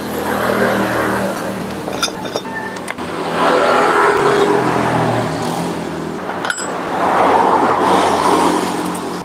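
A Yamaha Jupiter Z motorcycle engine with a mechanical fault runs steadily as a loud, continuous mechanical drone with swelling and easing intensity and a few sharp clicks, close by with no talk.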